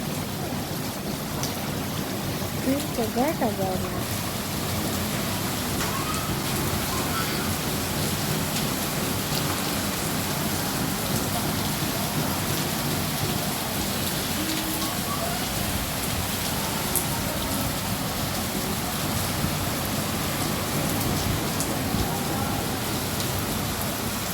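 Heavy rain pours during a Kalbaishakhi storm, a constant dense hiss of drops hitting surfaces that stays loud and even for the whole stretch, with only a brief faint sound near the start.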